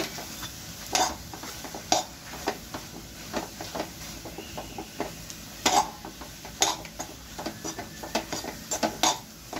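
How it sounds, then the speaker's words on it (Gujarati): A masala mixture is stirred in a pan, with repeated scraping and knocking strokes in an uneven rhythm over a low background hiss, close and fairly quiet. "ફ્રેન્ડ્સ, આપણે આને બધું હલાવી લઈએ."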